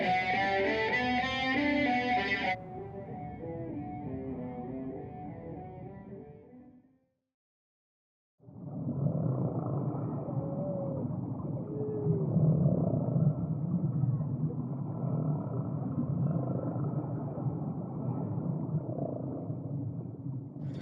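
A cello played through heavy distortion growls loud and gritty, then cuts to silence for about a second before a dense, fuzzy drone resumes.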